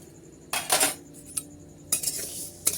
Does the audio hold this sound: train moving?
no